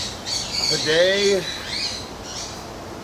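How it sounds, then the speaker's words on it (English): Eurasian eagle owls at a zoo-style enclosure give a couple of short, rising harsh squawking calls close by, with a person speaking briefly over them. "So these are Eurasian eagle owls."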